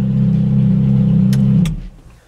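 Ferrari 458 engine revving in a garage, a loud, deep sustained roar held for about a second and a half before dropping off sharply, with a couple of sharp clicks near the end.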